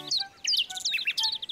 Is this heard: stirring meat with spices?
no